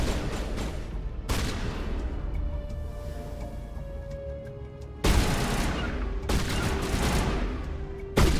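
Gunfire in the video game Mass Effect Legendary Edition: several loud, sharp bursts of shots with quieter stretches between them and a boomy low end.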